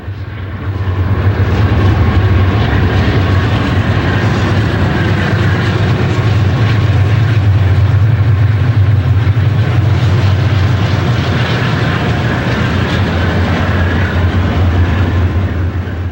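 A Conrail freight train led by two former Santa Fe GE C30-7 locomotives and a C40-8 passes near the Westinghouse Bridge in Pittsburgh, a loud, continuous, close diesel and rail rumble throughout.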